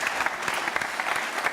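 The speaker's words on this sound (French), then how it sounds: "on peut l'applaudir à bien fort" An audience claps for the last contestant of a special broadcast, a brief, dense burst of applause from a small crowd, heard at moderate volume.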